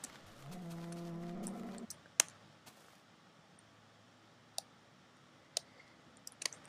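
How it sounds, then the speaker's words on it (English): A Minecraft cow gives one synthetic moo, a falling then steady harmonic tone lasting about a second and a half. Scattered soft clicks and ticks follow over quiet game ambience. "Here is a cow."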